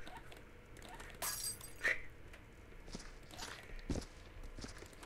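A glass ornament ball shatters in Viscera Cleanup Detail with a sudden bright crash and tinkling shards, amid soft footsteps and scattered clinks at low volume.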